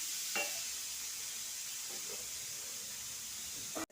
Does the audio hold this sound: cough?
no